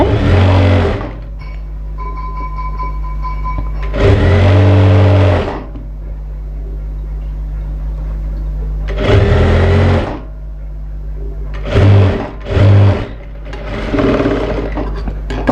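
A sewing machine stitches along the edge of a blouse in several loud, close bursts of rapid whirring, separated by quieter pauses with a low background hum.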